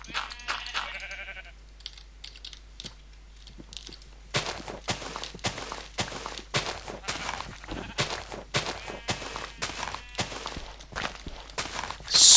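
A sheep bleats in Minecraft, a few short bleats early on, followed by a run of regular crunching footsteps and block-clicking sounds at moderate loudness, with no talking.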